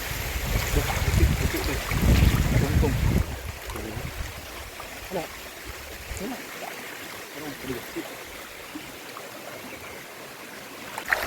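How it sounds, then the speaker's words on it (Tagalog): Water flows steadily outdoors in nature, a continuous rushing wash that is loudest early on and then settles into a softer, even murmur. "nature, nature na tubig oh"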